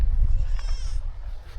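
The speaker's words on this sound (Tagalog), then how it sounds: "May mga kambing, oh." Goats bleat at a farmhouse yard in rural Burgos, Ilocos Norte, a short wavering call rising over steady low rumble and background noise.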